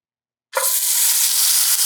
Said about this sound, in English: That's what you want to hear, that sizzle.